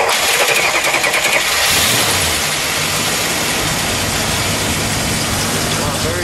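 A 1969 Chrysler 300 convertible with its hood open cranks and fires up, then settles into a loud, close, steady idle with a smooth rumble, while people talk over it.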